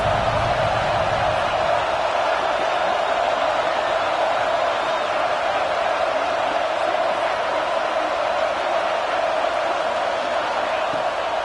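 A football stadium crowd roars steadily and loudly on a third-down red zone play, an unbroken wash of distant massed noise with no clear pauses.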